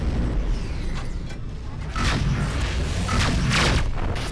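Incoming missiles exploding in a video game arrive as heavy booms and rushing blasts over a continuous rumbling background, with the loudest impacts near the middle and end.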